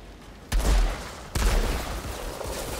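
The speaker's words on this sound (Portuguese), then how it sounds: "Tô dando snipada nele." Two heavy sniper rifle shots ring out in the video game Outriders, each a sharp loud crack with a booming tail, the second about a second after the first, over a steady background rumble.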